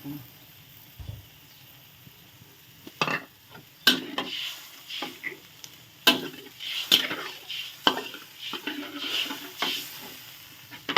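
Thin rice noodles are stir-fried in a pan after tamarind water goes in, with irregular scraping clatters of the spatula over a low sizzle, close and busy throughout.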